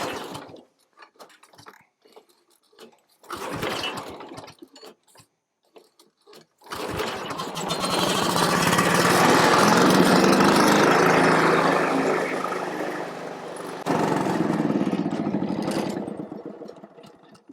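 A small gasoline engine swapped onto a Great Dane Super Surfer mower sputters in short bursts, then catches and runs steadily and loudly for several seconds, close by, with a slight shift in pitch toward the end.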